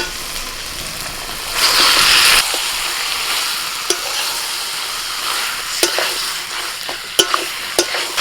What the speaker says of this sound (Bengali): এবার মশলা মাখানো চিকেনটা দিয়ে দিচ্ছি